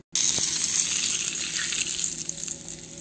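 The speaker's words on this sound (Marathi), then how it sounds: "बघा मी 2 चम्मच गरम तेल टाकलेलं आहे।" Hot oil spooned from a kadhai into a spinach pakora batter mixture gives a steady close sizzling hiss that starts abruptly and fades slightly over a few seconds, with no talking.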